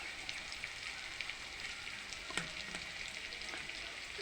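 Spices sizzle in a pan of softened tomatoes for a potato and soya chunk curry, as cumin and coriander powder go in; a steady, moderate frying hiss with a few faint clicks and stirs, no voices.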